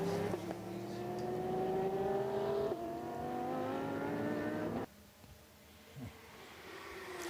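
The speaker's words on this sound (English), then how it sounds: "Martin Short's Roll Centre Racing BMW enters the pit lane" A Roll Centre Racing BMW race car in the 2016 Hankook 24H Barcelona endurance race drones steadily as it slows into the pit lane, then its engine drops away abruptly to a quieter background.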